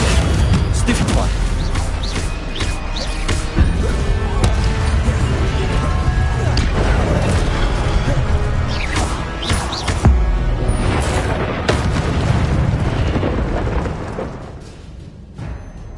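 Spell combat effects in the Hogwarts Legacy video game fill a dense stretch of crashing blasts, booms and impacts that fade near the end, with voices calling out amid the din.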